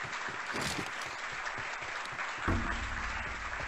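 An audience applauds at a live show with steady, continuous clapping throughout that swells louder and fuller toward the end.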